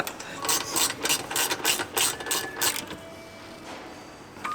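A hand ratchet clicks in quick, even strokes while tightening drop links on an Audi RS3 in a garage, close and crisp, with about eight bursts before stopping.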